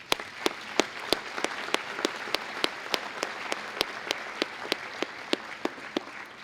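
At an alumni hall of fame induction ceremony, the audience applauds with evenly spaced, distinct claps that stand out sharply over a softer bed of clapping and keep a steady rhythm throughout.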